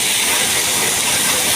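Ginger paste frying in hot oil, a dense, steady sizzling hiss that carries loud and unbroken from start to finish, with no voices.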